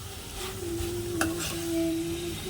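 Snails with chili powder fry in a pan for a snail and chana dal curry, making a soft continuous sizzle with a faint steady hum beneath and a single light click midway, close and quiet with no voices.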